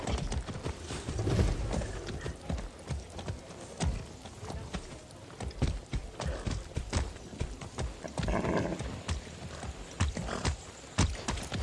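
Horse hooves clip-clopping at a walk in the video game Far Cry 6, a steady, faint rhythmic clatter with an occasional whinny.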